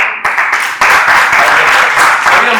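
Loud, dense applause from a meeting audience, with hands clapping steadily throughout after a brief pause at the start, close and sustained with no speech over it.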